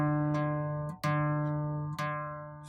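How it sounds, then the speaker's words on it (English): An acoustic guitar's open fourth string, plucked cleanly three times with clear ringing sustain, each note decaying before the next pluck, played alone with no talking. "I am now playing string number 4."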